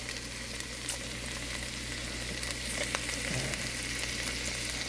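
Italian-style sausage seasoned with rosemary, basil, fennel, black pepper, cayenne, garlic and oregano sizzles steadily in a pan for a potato, sausage and kale soup, a close, even frying hiss with a few small pops and stirs.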